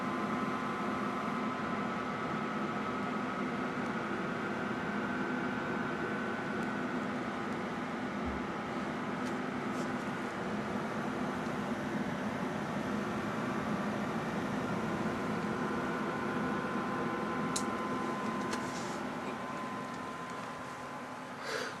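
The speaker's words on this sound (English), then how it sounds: "you can actually hear the GPUs speeding up in RPM because they're getting hotter" Fans on twin GTX 780 graphics cards running in SLI inside a gaming PC give a steady whooshing whir that holds for about twenty seconds, with a faint hum and a few small clicks.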